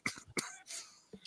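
Several close, raspy coughs and throat clearing come in a short cluster from one person during a live podcast, with no talk between them.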